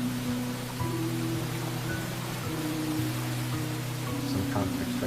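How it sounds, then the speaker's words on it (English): Heavy rain ambience from a video game, a Doki Doki Literature Club mod, a steady loud hiss of downpour filling the scene without pause, with a low hum underneath. "The rain's so loud."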